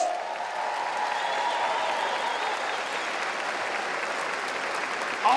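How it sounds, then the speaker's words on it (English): Graduates and leaders at a 2016 college commencement in Batavia, New York, receive a full audience ovation: dense, steady clapping from a large crowd that holds evenly for several seconds with a faint cheer near the end. "can we give these leaders as well as these graduates a big round of applause?"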